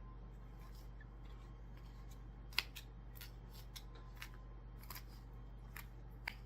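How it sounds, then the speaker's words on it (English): Paring knife cutting food on a board, a handful of faint, sharp clicks and snips spaced irregularly over a quiet steady background hum. "so I'm just using a paring knife."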